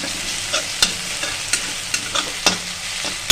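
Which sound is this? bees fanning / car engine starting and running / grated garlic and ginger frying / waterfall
grated garlic and ginger frying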